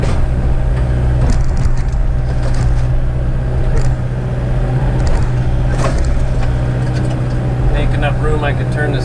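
A skid steer digging out dirt and concrete on a job site, its engine droning steadily and close throughout, with occasional scraping and knocking from the bucket.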